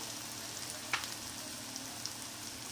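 Cucumber and ground spices (coriander, cumin, garam masala) sauté in a pan with a soft, continuous sizzle that stays faint throughout, broken by one brief tick of a utensil.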